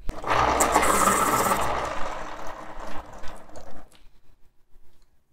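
A Faber-Castell Pitt medium charcoal pencil is sharpened with a loud rasping grind for about two seconds, then slows into softer scraping clicks before falling silent.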